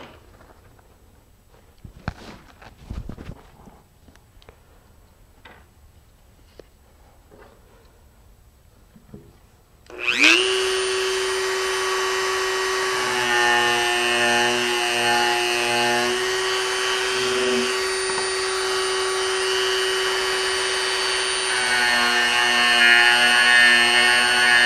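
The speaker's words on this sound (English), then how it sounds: "So I'm going to go ahead and just sand that down real quick." After some quiet handling noises, a power sander starts abruptly and runs steadily on a fiberglass rocket centering ring. It gives a loud, close, continuous whine with a grinding rasp as the workpiece is pressed against it.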